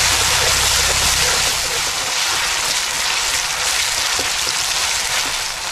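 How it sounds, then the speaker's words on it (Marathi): Garlic, green chili and ginger fry in hot oil with chili sauce for a street-style Schezwan chutney, stirred as they cook. A loud, dense sizzle runs continuously up close. "मिरची पण आता फिरवून घेतो मस्त चांगलं फ्राय करून झालेलं आहे"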